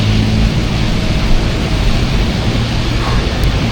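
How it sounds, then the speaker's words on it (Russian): Wind rushes steadily and loudly over the microphone while cycling in Yakutsk at about minus 50 degrees, a dense broadband roar with rumbling low gusts and no talk. "сзади меня ветер в спину поддувает"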